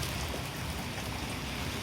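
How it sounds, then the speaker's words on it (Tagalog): Rain falling outdoors during a fishing outing in Pampanga, a steady dense hiss of drops that stays even and loud throughout the short stretch, with no voices. "sinabutan na kami ng ulan ano"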